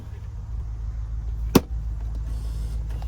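A 1997 Land Rover Discovery engine idles with a steady low rumble throughout, broken by a single sharp knock or click midway.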